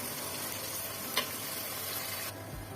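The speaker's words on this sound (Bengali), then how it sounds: "মলাই শুটকিটা দিয়ে দিলাম পেঁয়াজের মধ্যে, হালকা ভেজে নিব" Dried fish fries with onions in a pan, giving a steady, fairly quiet sizzle with one brief clink of a utensil. Nobody speaks.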